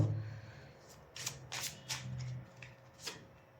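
Tarot cards being shuffled, several quick papery riffles and flicks in short bursts, close and fairly quiet, with no talk.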